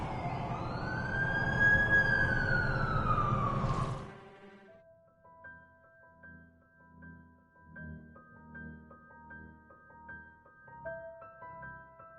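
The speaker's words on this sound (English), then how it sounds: "That's the ambulance I called." An ambulance siren in the PS4 game The Amazing Spider-Man 2 wails loudly, rising and falling for a few seconds, then cuts off abruptly into soft, steady electronic music tones.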